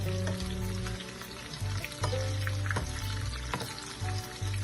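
Vegetables for bharta frying and being turned in a pan: close, bright sizzling with scraping and clatter as they are flipped, over a steady low hum.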